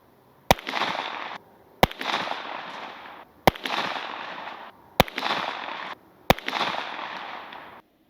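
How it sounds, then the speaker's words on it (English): A rifle fires five evenly spaced single shots, each a sharp crack followed by a long rolling echo that fades before the next shot. "So I bagged the gun back down and shot another 5-round group to see what had happened."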